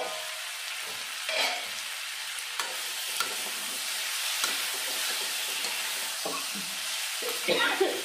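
Pumpkin and Japanese puti fish frying in a pan crackle with a steady sizzling hiss, with occasional stirring clatters and scrapes, close and fairly loud throughout.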